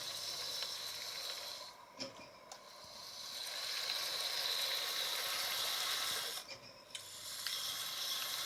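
A Hornby OO gauge A2 model locomotive running on track, giving a steady, close mechanical whir and fine ratcheting gear hiss with a couple of brief dips in level.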